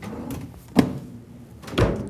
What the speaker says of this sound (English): So you take all these nice things, this too, and just put them in a drawer.